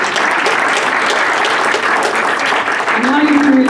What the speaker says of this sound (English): Give yourselves a big round of applause for listening to